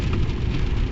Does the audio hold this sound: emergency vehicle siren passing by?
no